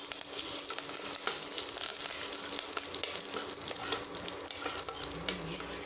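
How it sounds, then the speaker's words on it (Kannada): Mustard seeds, cumin and curry leaves sizzle in hot oil for a bottle gourd curry, a steady close crackling hiss with scattered pops running throughout, no voices. "ಎಣ್ಣೆ ಬಿಸಿ ಆದಮೇಲೆ ಸ್ವಲ್ಪ ಸಾಸಿವೆ, ಸ್ವಲ್ಪ ಜೀರಿಗೆನ ಸೇರಿಸಿ, ಸಾಸಿವೆ ಸಿಡಿದ ನಂತರ ಕರಿಬೇವಿನ ಸೊಪ್ಪನ್ನು ಸೇರಿಸ್ತಾ ಇದ್ದೀನಿ"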